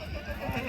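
A horse whinnies loudly and close by at a ring in Morbi, a short shrill neigh with faint hoof clops beneath it and no talk.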